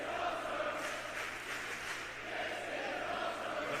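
A wrestling crowd in Milton Keynes roars and cheers in a sustained, dense wall of voices filling a large arena, steady and loud throughout.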